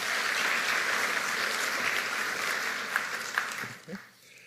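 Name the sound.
audience applause for event organizers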